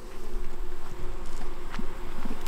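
Honey bees buzz steadily at a hive weakened by varroa mites, a close, continuous drone with no pauses.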